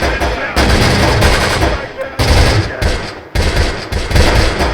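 Gunfire and cooking-off ammunition in the Close Combat wartime strategy game: dense, loud bursts of shots and crackling rounds run almost continuously, with brief dips between volleys and faint talk mixed underneath.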